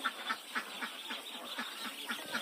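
Itik Pateros ducklings in a brooder on a Philippine duck farm, a busy chorus of rapid high peeping quacks repeating in quick rhythm, close and steady.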